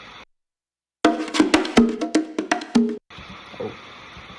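A bongo drum loop plays a quick rhythmic pattern of bright pitched slaps and taps for about two seconds, cutting off abruptly, with quieter sound before and after it.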